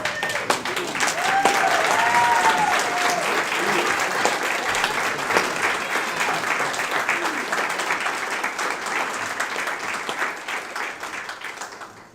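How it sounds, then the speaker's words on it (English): A standing audience at a graduation ceremony gives the graduates a loud, sustained round of applause, a dense wash of clapping that holds steady for about twelve seconds and fades slightly toward the end. "Can I get everybody to stand and give these graduates a round of applause?"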